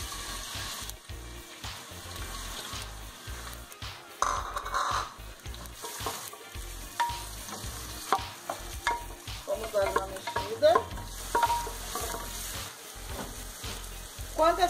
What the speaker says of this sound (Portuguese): nessa panela eu coloquei o óleo, agora eu vou colocar a cebola com o alho